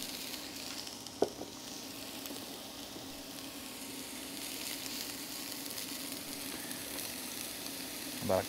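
Sweet onion cooks in olive oil over medium heat on an induction burner, a faint, steady frying hiss running throughout with a couple of isolated soft clicks.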